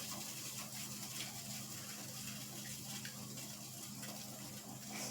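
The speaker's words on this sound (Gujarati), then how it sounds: "જોઈ શકો છો કે આપણું પાણી ઉકળી ગયું છે." Water boils in a pot on a gas stove before wheat-flour noodles are added. The bubbling is faint and steady, a soft continuous hiss that carries on unchanged throughout.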